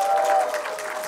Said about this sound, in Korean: 박수 쳐야지 박수.